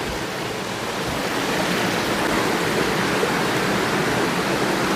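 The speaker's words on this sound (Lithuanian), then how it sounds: "vandens čiurlenimo." Water babbling inside a damp 19th-century tunnel with steps and ledges, a steady broadband rushing wash that fills the space evenly, with no talking.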